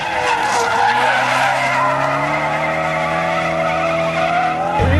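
A car drifting with a sustained, loud tire squeal and a steady engine drone held continuously over several seconds, ending in a brief abrupt shift.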